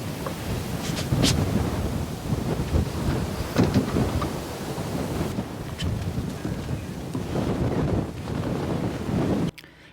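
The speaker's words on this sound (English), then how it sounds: "It was so windy outside" Strong winter wind gusts buffet the microphone outdoors in rough, roaring surges that rise and fall for about ten seconds before dropping away suddenly.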